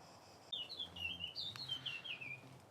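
A songbird chirps outdoors beside a grill where stuffed sweet peppers are cooking, giving a quick run of bright, clear tweets and trills up close against a quiet background.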